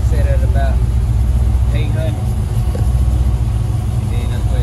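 A Chevrolet Malibu wagon engine idles steadily at around 1200 RPM with the air conditioning running, a loud, close, continuous low rumble with someone talking over it.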